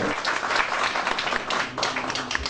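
Thirty-seven municipal councillors of Douala 2e applaud by acclamation at an extraordinary council session, producing a continuous, dense burst of clapping at fairly strong volume, steady with slight swells.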